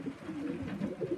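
Stock pigeons cooing in a loft, a soft low continuous warble that is close and steady, with no talk.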